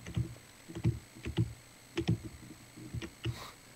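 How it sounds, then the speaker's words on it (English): Computer keyboard typing during a Death Run game is heard as a run of irregular, moderately close clicks and taps in quick bursts, with no talk over them. "I can hear your keyboard."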